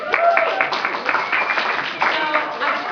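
Audience at a student general assembly meeting breaks into applause, a dense, steady patter of many hands clapping together for nearly three seconds, fairly loud and close with no voice rising above it.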